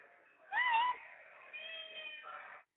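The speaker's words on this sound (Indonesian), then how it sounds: "Saya mendengar kucingnya." A cat meows a few times over a prison phone line, with clear wavering cries standing out above faint background hiss and no talk.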